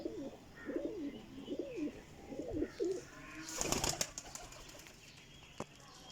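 Flying pigeons in new feathers give several soft, rolling coos close by, followed by a brief flutter of wings and then near quiet.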